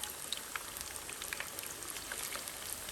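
Chicken pakora frying in oil over medium heat, a soft continuous sizzle dotted with fine crackles and pops, quiet and close.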